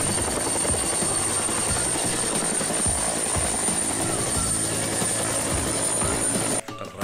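A toy helicopter sound effect plays as a loud, steady rotor whir with rhythmic blade chopping, close by, cutting off abruptly at the end.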